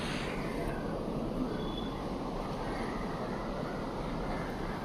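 A steady, broad low rumble of a train rolling along the tracks, constant and fairly loud throughout with no clear talk.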